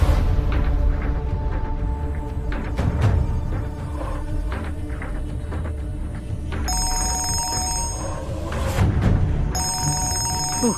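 An old-style telephone bell rings in a home during a TV serial scene, repeated bright trilling bursts over steady background sound, close and fairly loud, with no speech.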